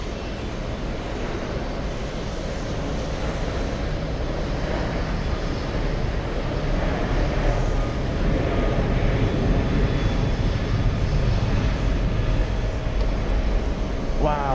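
A steady, broad jet roar from an Emirates airliner at JFK, filling the whole stretch at an even level, distant but constant, with no talk over it.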